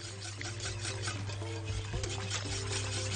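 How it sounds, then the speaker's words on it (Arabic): Whisk quickly stirring a sugar mixture in a bowl, a steady rapid scraping and swishing texture with faint clinks, fairly close and continuous, with kitchen hum beneath and no talk. "نقلب بقى بسرعه وما نشيلش ايدينا بالمضرب"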